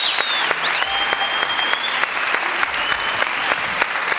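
A television studio audience applauds steadily, the many hands forming a bright continuous patter, with faint whistles or a cheer rising briefly over the clapping.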